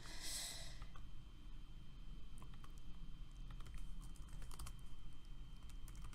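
Faint, scattered keystrokes on a computer keyboard click irregularly in a quiet room over a low steady hum, opening with a short breathy burst.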